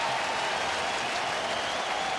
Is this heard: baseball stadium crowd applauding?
yes